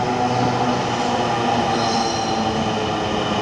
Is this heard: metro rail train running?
yes